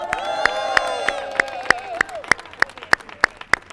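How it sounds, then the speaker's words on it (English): A crowd at a Juneteenth commemoration in San Diego claps and cheers for a city employees association, with sharp, rhythmic group claps ringing out in a steady beat under a sustained cheer and whoops. "I want a big applause for this one."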